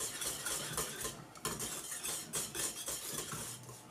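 A spoon scrapes and clinks steadily around a pot of thickening pudding cooking over a very low gas flame, a quiet, rhythmic stirring with soft metallic taps and no talking.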